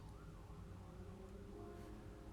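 A faint, distant emergency siren wails outside, its tone wavering softly beneath low steady street noise.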